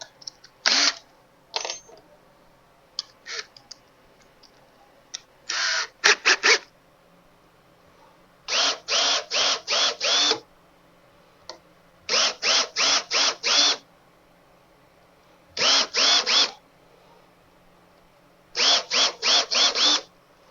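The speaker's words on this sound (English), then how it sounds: "Give it a little wiggle room. Need more countersink." A drill cuts a countersink for a rear-view mirror mount on a Factory Five Mk4 Shelby Cobra replica, heard as loud, close bursts of whirring in short groups separated by silent pauses, with no talking.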